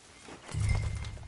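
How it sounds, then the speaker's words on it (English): A horse in a PS4 game stamps and snorts, a soft scuffle followed by a heavy, low, rumbling burst lasting under a second, close and fairly loud. "Get that horse out of here."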